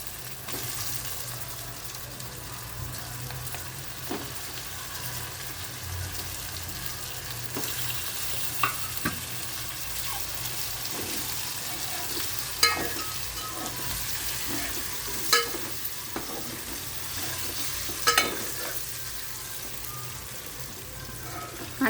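Egg masala frying and being stirred in a pan, a steady close sizzle with occasional sharp spatula scrapes and clinks against the metal, with no voices.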